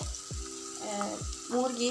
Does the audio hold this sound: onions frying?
yes